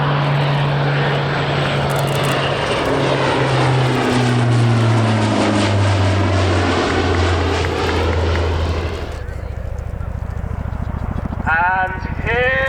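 A C-130J Hercules propeller transport flies past at the RAF Cosford Air Show, its loud droning engines shifting in pitch as it passes close by, then fading to a distant rumble with a voice heard near the end.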